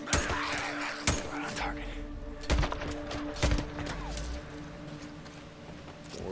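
Gunshots ring out in the Days Gone video game, a few sharp scattered bursts spaced through the clip over a steady hum of game ambience.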